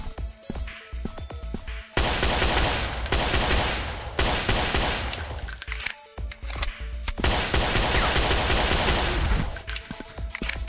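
Shooting in the game Dinosaur Hunter Africa: loud, dense crashing gunfire in long blasts broken by short silent gaps, close and harsh, with scattered sharp reports between the bursts.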